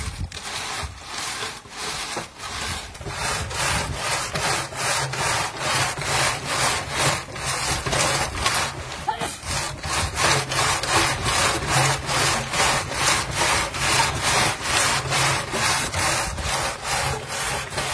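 A groundnut shelling machine runs continuously with a loud, rhythmic rasping grind, steady regular strokes repeating close by throughout.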